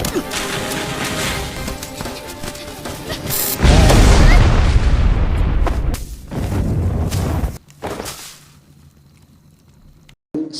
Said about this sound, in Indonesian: Si Yong mulai menyerang dengan menggunakan granat